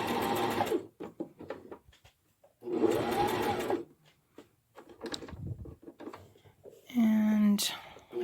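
A sewing machine stitches a pillow in three short bursts of rapid mechanical whirring, with quiet spoken remarks in the pauses between runs.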